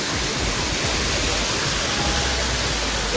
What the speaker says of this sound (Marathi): बघा धबधबो